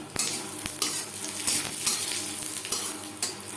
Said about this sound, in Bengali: দশ 15 সেকেন্ড শুকনো লঙ্কা ভেজে নেওয়ার পর দিয়ে দেবো একটা তেজপাতা, ছোট 1 চামচ গোটা জিরে